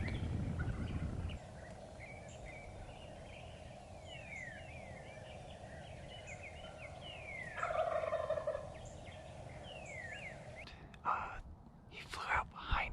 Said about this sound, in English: Got turkeys gobbling.